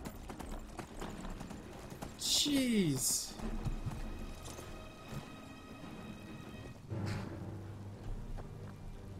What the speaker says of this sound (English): It's a good thing I have this horse.